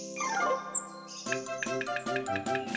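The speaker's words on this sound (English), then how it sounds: "that's a noisy woodpecker" Cartoon woodpecker sound effect in a children's animated folktale, a sliding whistle-like call followed by a quick series of sharp, evenly spaced pecking knocks, clear and alone.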